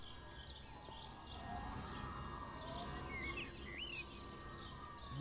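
Birds chirp and call in the video game Everyone's Gone to the Rapture, several bright whistling tweets at moderate distance over a quiet outdoor ambience.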